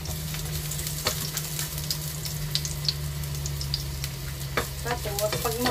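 Garlic and ginger stir-frying in a pan make a constant crackling sizzle, with a steady low hum beneath and scattered scrapes and clinks as they are stirred.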